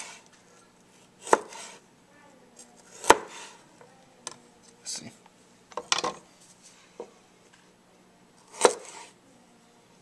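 A chef's knife chops food on a cutting board in about five separate, crisp strikes with uneven pauses between them, and a voice briefly speaks.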